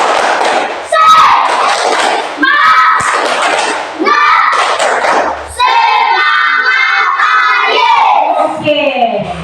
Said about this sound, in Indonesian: Yang pertama itu kita tepuk semangat.